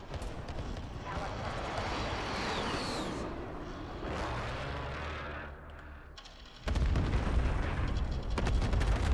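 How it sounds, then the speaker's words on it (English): Airstrike explosions in a Modern Warfare video game, rumbling blasts and crackling gunfire rolling through a chaotic battle, growing louder with a heavy impact near the end, voices occasionally over it. "Be advised, friendly precision airstrike inbound."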